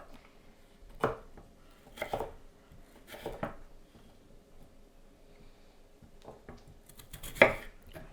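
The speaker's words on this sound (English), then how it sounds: "I cut the potatoes up in slices and then into sticks" A knife chops potatoes into slices and then sticks on a board, making a handful of separate, fairly quiet cuts spaced a second or so apart, with short gaps between them.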